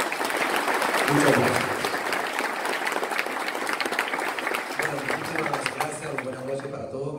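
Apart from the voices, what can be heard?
audience applause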